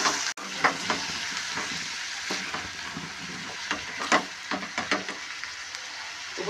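Bitter gourd curry with chili powder and salt is stirred in a frying pan over a low sizzle, with repeated scraping spoon strokes and clinks at an uneven rhythm, no talk.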